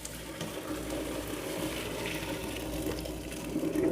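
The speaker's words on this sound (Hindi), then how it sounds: "चावल को स्ट्रेन कर रहे हैं हम।" Cooked rice poured into a strainer for a Karachi-style mutton biryani, its boiling water gushing and draining in a steady close splashing rush that swells toward the end.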